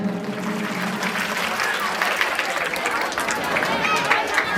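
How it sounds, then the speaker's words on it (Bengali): A crowd at a karate event and jubilee ceremony claps loudly and continuously, dense applause filling the hall and building slightly toward the end, with faint voices underneath. "একটু জোরে তালি হবে"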